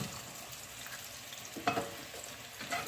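Homemade Salisbury steak patties brown in a pan with a quiet, steady sizzle, broken by a few louder clinks and scrapes of a utensil near the end.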